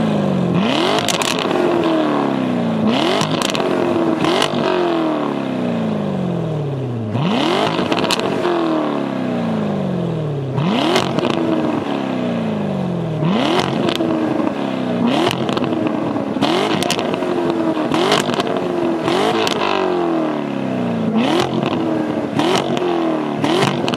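Chevrolet C7 Corvette Z51 with a manual gearbox revs repeatedly outdoors in track mode, loud close blips rising and falling in a steady rhythm, each rev climbing sharply then dropping back to idle, with no talk.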